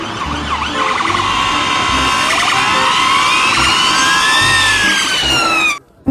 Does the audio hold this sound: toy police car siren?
yes